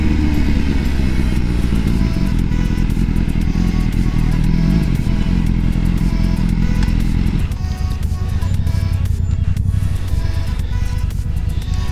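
BMW S1000R motorcycle ridden on the road, a loud, steady engine drone with wind roar from the rider's position and a drop in pitch and load partway through, no talking.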